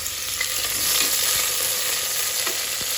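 Roughly chopped mint frying in a hot pan for chicken ghee rice, a loud continuous sizzle with stirring underneath, close and without talk.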